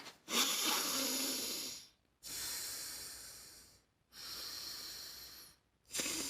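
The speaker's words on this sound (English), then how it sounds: "Use the alternate nostril breathing technique." Alternate nostril breathing: three long, airy breaths drawn and pushed through the nose, each a sustained hiss followed by a brief silent pause, quiet and close with no talking.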